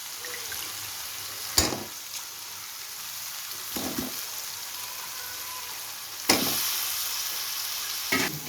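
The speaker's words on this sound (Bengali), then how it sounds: "এখন আমি দিয়ে দিব কেটে রাখা ফুলকপিগুলো" Cut cauliflower florets drop into a pan of spice paste fried for a mustard cauliflower curry, with a continuous close sizzle and a few sharp bursts and clatters as the pieces go in, no speech.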